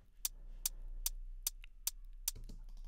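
A programmed hi-hat pattern of steady quarter notes from a sampler in Ableton, giving six short, crisp ticks, evenly spaced and faint over a low hum, with no voice.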